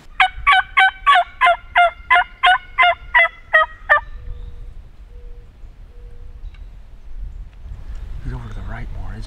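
A wild turkey gobbling during an Illinois spring hunt, a loud rapid rattling burst of about ten pulses close by, then quiet before people start talking softly.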